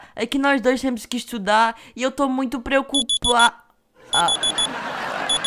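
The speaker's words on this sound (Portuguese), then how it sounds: "A pulseira que tá apitando no seu pulso" Someone speaks, then rapid high electronic beeps from an alarm bracelet in Minecraft pulse in short repeated bursts, first under her voice and again after a brief pause.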